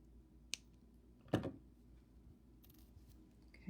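Cutters snip through jewelry wire while making Swarovski crystal wire dangle earrings: one crisp, sharp clip stands out, with a fainter tick just before it, in an otherwise quiet room.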